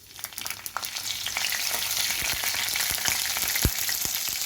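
Mustard seeds and green chillies fry in hot oil in a home kitchen while potato palya is being made, giving a steady close sizzle with scattered sharp crackling pops throughout and no voices.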